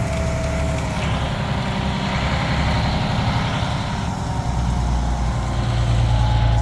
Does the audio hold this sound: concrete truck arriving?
yes